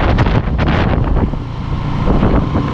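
Strong habagat monsoon wind in the Philippines roars and buffets the microphone in loud, rushing gusts that persist for the whole stretch, with no one talking.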